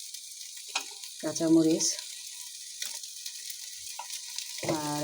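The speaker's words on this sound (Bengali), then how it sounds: "চাল, ডাল সব কিছু আমি একটু ভেজে নিচ্ছি।" Rice and lentils frying in a pan for khichuri, a steady hiss of sizzling throughout, with someone talking over it in short bursts.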